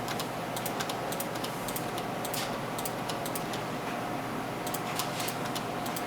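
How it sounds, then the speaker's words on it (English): Someone presses the delete key on a computer keyboard, giving crisp, close clicks in short bursts with pauses between them. A steady background hiss runs throughout. "I'm using the delete button on my keyboard when I click over the video file."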